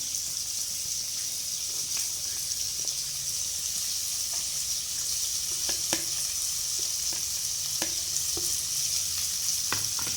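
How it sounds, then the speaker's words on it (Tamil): Thinly sliced onions frying over low heat for fish biryani, a steady, close sizzle with occasional sharp pops and spoon scrapes spaced through the whole stretch, alone without voices. "அடுப்பை நான் லேசாகவே வச்சுக்கிட்டு வெங்காயத்தை நல்லா ஃப்ரை பண்ணி எடுத்துக்கலாம்."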